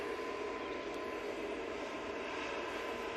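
An EasyJet Airbus A320neo jet airliner taking off for Istanbul, a steady broadband engine roar filling the short span at constant level, with no talk.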